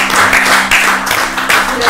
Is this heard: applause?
yes